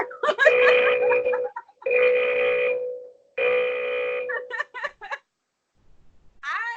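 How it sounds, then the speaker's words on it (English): An alarm rings in three long, loud, buzzing bursts of about a second and a half each, with short gaps between them, followed by brief voices near the end. "Just keep the alarm ringing"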